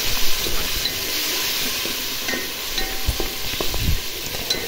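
Tomatoes hit a pan of frying onions and capsicum, giving a steady loud hissing sizzle up close with a few stirring scrapes and sputters, no voices.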